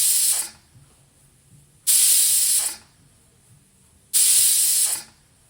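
Pressure cooker on a stove cooking tomato dal releases steam in three loud, hissing bursts, each under a second long and separated by quiet pauses.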